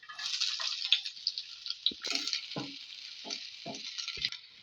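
Chopped onion with ginger and garlic fries in hot oil, a steady close sizzle with stirring clinks and bursts of crackle throughout.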